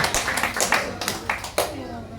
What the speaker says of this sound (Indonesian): ayo beri tepuk tangan buat Tuhan Yesus